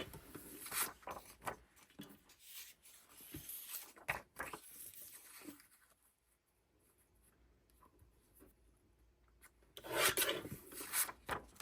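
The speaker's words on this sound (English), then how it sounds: "So I'm going to trim these other 2." Paper Christmas tags are trimmed, giving soft close-up rasping cuts and rubbing scrapes in short bursts, a quiet stretch in the middle, then a louder final flurry of cutting, with no talking.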